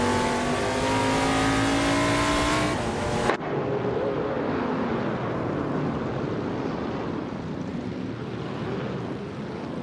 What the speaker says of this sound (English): The NASA 1970 cars are performing well at Wood International Circuit, with the top positions mostly held by Ford Torino and Chevrolet Monte Carlo.